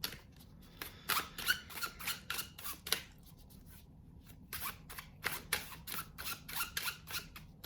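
Tarot cards from a Spirit Animal Guides deck are shuffled in quick, rhythmic riffles and flicks, close and fairly soft, with short pauses between runs of crisp card sounds.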